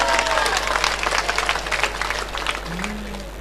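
Audience at a poetry recital clapping on request, a lively crowd of hands with distinct individual claps, fading gradually while a low hum runs beneath.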